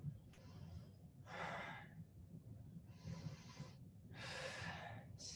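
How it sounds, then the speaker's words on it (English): Deep yoga breaths during a Yogalates session come as several slow, airy inhales and exhales in a steady rhythm, soft and close, with no voice over them. "Keep breathing, 3 more deep breaths."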